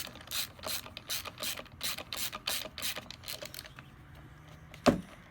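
A nut is tightened by hand onto an EGO Rapid Reload spool head fitted to a Kobalt 24V string trimmer, giving a quick run of close ratcheting clicks, then a brief whir and a single sharp knock at the end.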